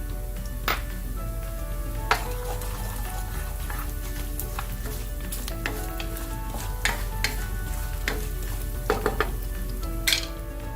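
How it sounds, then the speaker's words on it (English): Garlic and fennel seeds fry in hot oil in a pan for a prawn masala, a steady close sizzle broken by occasional sharp clinks and scrapes of a utensil stirring against the pan, with no voices. "gently fry the garlic in the oil without browning it too much or burning it. Fennel seeds go in next."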